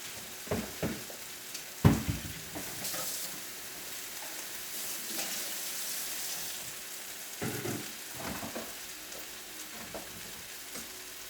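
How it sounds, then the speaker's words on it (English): Quinoa for a vegan chili simmering in water in a pot, giving a steady low hiss and crackle with a few louder pops and clinks near the start, continuous and close throughout. "we're just going to let this boil until it boils down"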